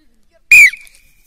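A referee's whistle at an arm wrestling tournament: one short, sharp, loud blast that quickly cuts to a thin fading tail, in an otherwise quiet moment.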